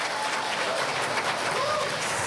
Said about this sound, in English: please give a round of applause to all of our newly appointed